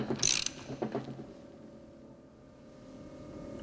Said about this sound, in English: Using the bush replacement tool, wind in the bush until it stops.